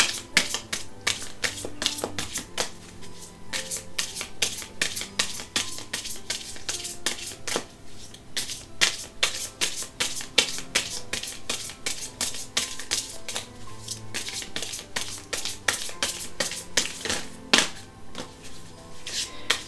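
A fresh oracle card deck is shuffled by hand: a continuous stream of rapid, crisp card clicks and flicks runs steadily for almost twenty seconds, close and loud with no talk.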